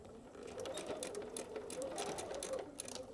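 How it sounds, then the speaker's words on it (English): Sewing machine backstitching during foundation paper piecing, a quiet, steady mechanical whir of the needle running continuously for a few seconds close by. "Again, we'll backstitch."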